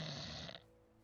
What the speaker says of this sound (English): That's the sound of him snoring.